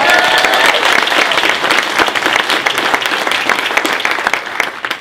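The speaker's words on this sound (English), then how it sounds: "Please give all a round of applause." A crowd at a sold-out diversity and inclusion launch event gives a strong, sustained round of applause that fills the room and tapers slightly toward the end.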